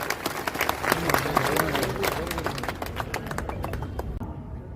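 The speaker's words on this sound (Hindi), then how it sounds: "आप भी जोरदार उनके लिए तालियां बजाएं" An audience at a political stage event claps steadily and loudly, a dense crowd applause that holds for several seconds with a murmur of voices underneath before thinning out.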